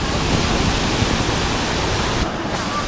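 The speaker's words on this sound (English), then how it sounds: "We made it to the Shifen waterfall." Shifen waterfall roaring steadily and close, a dense broadband rush of falling water and spray filling the whole stretch with no break.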